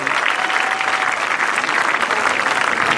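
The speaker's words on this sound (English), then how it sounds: "Round of applause for Chris Snoddy." Sustained clapping from a crowd honoring a member of a 1994 state champion boys basketball team, even and full throughout without a break.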